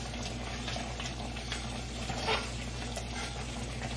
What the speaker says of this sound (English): While this is boiling, let me tell you about the next step.